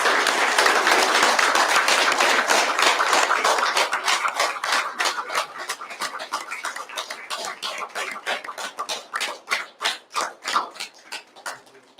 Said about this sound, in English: a big round of applause for October 2021, Avon Nova's Jim Seister